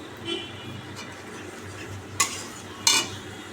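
Spiced jackfruit curry is stirred in a pan with coriander, cumin, Kashmiri chilli and turmeric, giving a soft, close sizzle and scraping, with two sharp metallic clinks of a spoon against the pan near the end.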